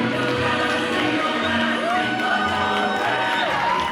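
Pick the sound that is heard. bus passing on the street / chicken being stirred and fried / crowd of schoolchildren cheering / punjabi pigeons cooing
crowd of schoolchildren cheering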